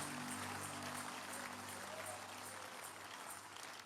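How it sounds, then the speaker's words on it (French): A church congregation at a midweek communion service applauds in praise, a steady dense wash of clapping from many hands held at an even, moderately loud level throughout, with no speech over it. "Give Jesus a big hand of praise."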